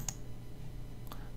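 A computer mouse button is clicked twice, about a second apart, as two faint, sharp ticks over a quiet background hum.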